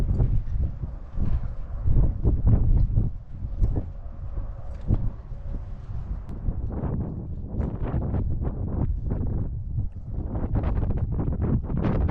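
Outdoor breeze buffeting the microphone at a horse-riding arena on a cold day, uneven gusty low rumbling lasting throughout, with faint hoof or movement sounds underneath.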